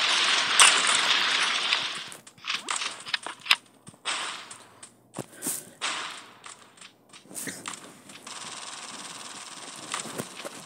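Enemy gunfire in a video game comes as sharp, snappy cracks and bursts among loud scattered game effects, with irregular shots over roughly ten seconds and a sustained hiss toward the end.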